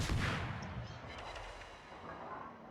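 Heavy naval guns fire a volley in a warship battle game, one deep booming blast that rolls off into a long fading rumble, heard alone.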